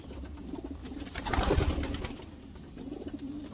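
A racing hen pigeon in a loft ruffles and flutters as someone tries to catch her: a burst of wing flapping swells in the middle, with soft cooing and bird sounds before and after.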